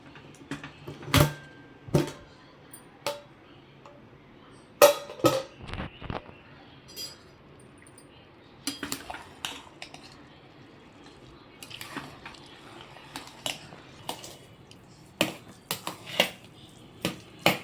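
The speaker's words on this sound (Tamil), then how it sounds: "நம்ம குக்கரை ஓப்பன் பண்ணி பார்க்கலாம்." Pressure cooker lid being opened and handled during home lunch cooking: scattered metallic clinks, clacks and knocks at irregular intervals, some sharp and close, with quiet gaps between.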